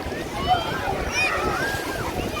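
Sea waves washing in at Mandvi beach in Gujarat, with rowing boats nearby, a steady wash of surf and wind under a person talking throughout.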